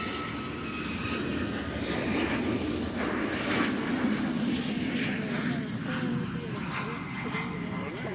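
A departing airliner bound for Las Vegas roars steadily through its takeoff run at Nashville International Airport, a broad, sustained engine rumble that stays loud throughout, with voices talking over it.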